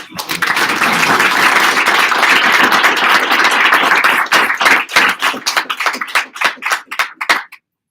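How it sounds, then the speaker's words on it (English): An audience at a 2018 Veterans Day celebration claps for veterans in a loud, dense burst that thins after about four seconds into scattered individual claps before stopping. "let's give a round of applause to these veterans."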